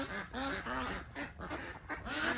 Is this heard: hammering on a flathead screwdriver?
no